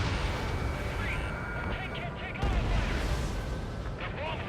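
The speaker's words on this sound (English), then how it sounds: "They're bombing us." Bombing explosions in the combat flight game Ace Combat 7, with heavy rumbling blasts layered over a constant engine roar, while radio voices talk over the noise.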